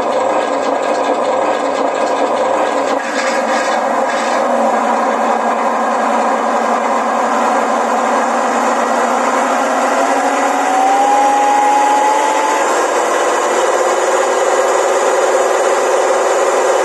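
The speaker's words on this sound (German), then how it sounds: "Gas- und Motorsound ist auch proportional." An electronic engine sound module on an RC ZIL 130 dump truck hums continuously, its simulated engine note slowly rising in pitch as the throttle opens, steady and close with no talking.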